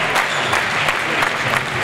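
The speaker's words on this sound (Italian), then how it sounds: "pubblico applaude, 11-6" Indoor volleyball crowd applauding steadily during a timeout, dense clapping filling the hall loud and close throughout.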